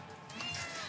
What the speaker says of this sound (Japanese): あ、猫